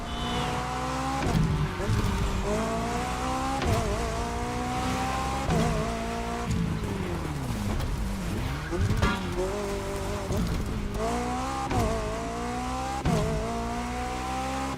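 Sustained tire squeal and skidding from cars drifting in The Crew Motorfest racing game, with engine revs rising and falling and steady, loud screeching throughout.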